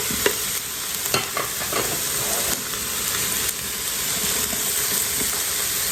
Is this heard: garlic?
yes